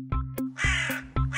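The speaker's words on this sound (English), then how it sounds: "there lived two crows named Chinnu and Minnu" A cartoon crow caws repeatedly in loud, harsh bursts, about four calls in quick succession over a sustained musical backdrop.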